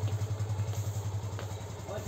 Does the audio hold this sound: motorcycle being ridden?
yes